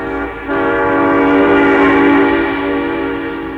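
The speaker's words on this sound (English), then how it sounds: "Train whistles" A city train whistle sounds in one sustained, loud, harmonic-rich blast lasting a few seconds, swelling after a brief softer start and holding steady, heard alone without voices.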